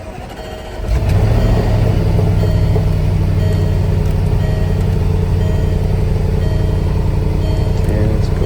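A Range Rover engine cranks and catches just under a second in, then settles into a loud, steady idle close by for the rest of the clip, after a quiet lead-in.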